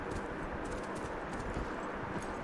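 Horse hooves in The Last of Us video game, a dense, continuous clatter of hoofbeats blended with broad ambient noise, moderately loud and without speech.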